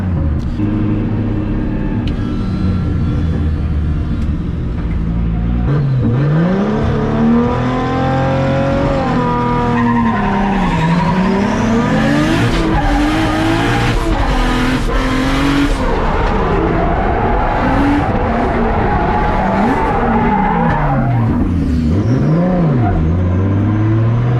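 Drift cars at a drift competition slide through the outer zones, engines revving loudly with sustained tire squeal and shifting engine pitch, a continuous roar close by.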